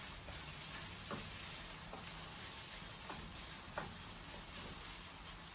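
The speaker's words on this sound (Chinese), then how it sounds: "继续翻炒" Meat being stir-fried in a wok right after Shaoxing wine goes in, a steady sizzle and hiss with a few soft spatula scrapes, fairly faint and without talk.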